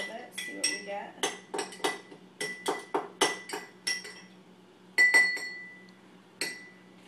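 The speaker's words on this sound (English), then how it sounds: "Stir it up a little bit, see what we get." A spoon stirring antacid tablets into liquid in a glass, bright clinks and taps against the glass in irregular bursts, close and clear, ending with a couple of isolated rings.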